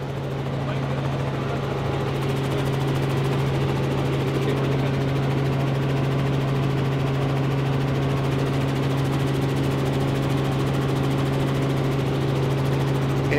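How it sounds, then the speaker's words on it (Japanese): A news helicopter circles over Maizuru Park in Fukuoka during a large rally, its steady rotor and engine drone holding loud and constant throughout, with a voice talking over it. "現在舞鶴公園周辺を旋回しております私たち正しい報道ヘリの会"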